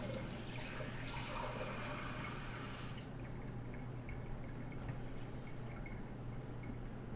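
Kitchen sink tap runs water into a measuring cup, a steady loud hiss for three seconds that cuts off sharply, leaving faint drips and quiet room noise.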